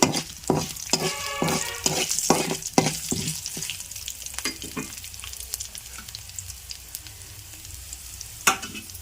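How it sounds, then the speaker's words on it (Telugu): Dried red chillies sizzle and fry in a pan for coconut and ridge gourd chutney, with loud stirring scrapes and clinks through the opening seconds before the sound settles into a steady crackling sizzle and one late sharp knock. "ఇదిగోండి ఇప్పుడు ఎండుమిర్చి వేస్తున్నాను"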